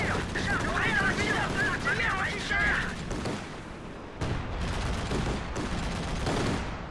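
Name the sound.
artillery bombardment and gunfire in Company of Heroes 2 video game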